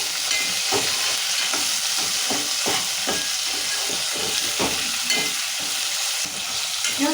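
Chopped tomatoes for tomato pulihora fry in a hot pan with a loud, continuous sizzle, while a spoon scrapes and stirs in a steady, repeating rhythm.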